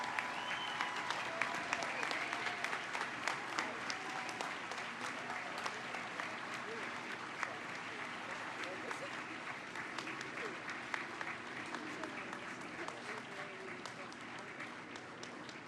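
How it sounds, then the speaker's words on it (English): Sustained audience applause at a public monument unveiling ceremony, steady and dense clapping from a large crowd, fairly distant and even throughout with a few faint voices underneath. "join me in giving these pioneers, these brave individuals, the praise and the applause that they deserve."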